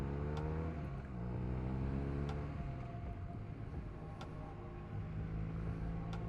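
A car climbing a tight, twisting mountain road in first gear on the way toward the Picos in northern Spain, its engine droning steadily at low revs and close by, with the pitch rising and shifting as it works round the bends.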